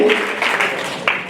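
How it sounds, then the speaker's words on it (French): A church congregation at a tenth-anniversary service in Montreal bursts into loud, dense applause, a brief wash of clapping swelling in waves with a sharp accent near the end. "On donne de forts applaudissements, comme si on allait bouger une montagne."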